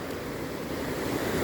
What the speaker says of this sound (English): There's a waterfall over there.